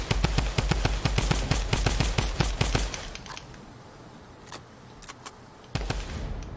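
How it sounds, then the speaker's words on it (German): Rapid automatic gunfire in the video game Fortnite, loud close bursts for about three seconds, followed by scattered single shots and a final crack over a quieter background. "wenn wir schießen, höre ich nichts. Weil die Schüsse nämlich so laut sind."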